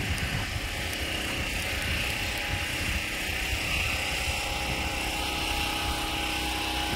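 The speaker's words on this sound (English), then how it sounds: "You probably hear the generator in the background." A neighbor's generator drones steadily and unbroken, a continuous rumbling engine hum with a broadband whine over it that holds constant throughout.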